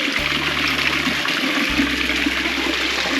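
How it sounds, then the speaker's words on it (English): A small waterfall in a Buddhist temple garden in Kamakura, Japan, gives a steady, close rushing of water that never lets up, with a low droning hum running underneath. "This waterfall has a very soothing effect"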